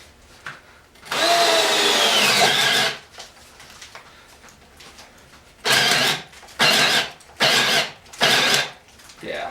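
A Ryobi cordless drill on low speed whirs in one long run, then in four short bursts, each stopping abruptly with brief quiet gaps between.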